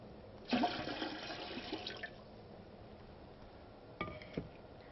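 Water gushes and splashes into a metal pressure canner, a loud burst that tapers off, followed by a second shorter pour a few seconds later.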